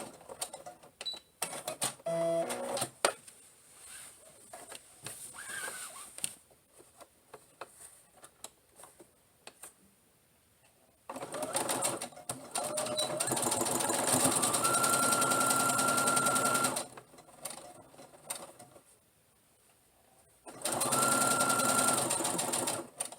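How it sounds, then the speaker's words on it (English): A sewing machine joins the shoulder seams of a tunic top, running in bursts of rapid mechanical stitching separated by quieter pauses, with soft handling sounds between runs. "Here I'm just sewing the shoulders together."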